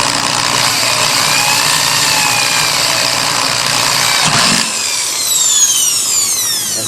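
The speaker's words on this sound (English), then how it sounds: "Drill through." A power drill bores through metal at a center-punched mark, giving a close, steady grinding whir that holds for several seconds. It then drops off near the end and leaves a fading high whine.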